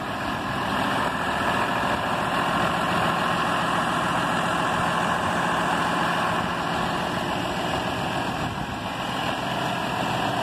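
A John Deere 6150M tractor engine idles steadily and loudly, a constant low rumble with no talking.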